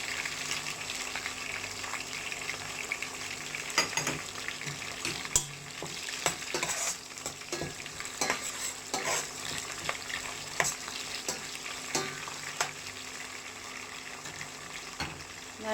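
Small shallots sauté in a pan for a vanjaram fish curry, sizzling steadily under repeated stirring scrapes and occasional sharp clinks of the spoon, with no speech.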